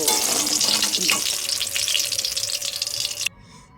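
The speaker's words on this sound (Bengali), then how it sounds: "এ দেখো বেগুন ভাজা দিয়ে দিয়েছি, লাল লাল বেগুন ভাজা হয়ে যাচ্ছে" Eggplant slices frying in mustard oil, a loud dense sizzle close by with stirring clatter that fades out abruptly near the end, leaving a faint background.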